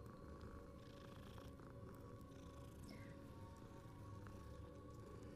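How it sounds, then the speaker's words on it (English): A cat purring while being petted in the video game Hogwarts Legacy, a steady continuous purr over game background ambience, with no talking. "Petting the cat."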